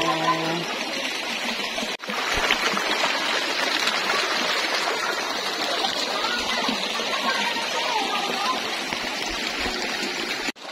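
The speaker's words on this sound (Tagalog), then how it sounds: "Ayan na at ang ganda ng batis!" A hidden stream in Nagcarlan, Laguna, with clear cold water flowing in a continuous close rushing wash, briefly broken near the start, with a voice heard at the beginning.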